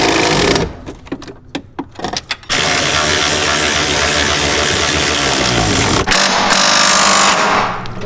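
A rapid, loud mechanical hammering of a power tool tightens bolts on a manual clutch pedal assembly in a station wagon, with short bursts at first and then one long sustained run, close and with no talk.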